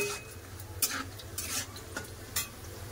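Potato and banana chips frying in a pan give a soft sizzle, broken by several sharp scrapes and clinks of a utensil stirring and lifting them, close and without voices.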